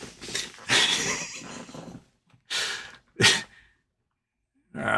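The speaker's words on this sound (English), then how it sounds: "Look at you, you little dog." A small dog snorts, sneezes and breathes heavily close by, giving several short bursts of huffing and sniffing with brief quiet gaps between them.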